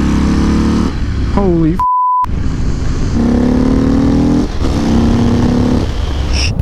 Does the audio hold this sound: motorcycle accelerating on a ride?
yes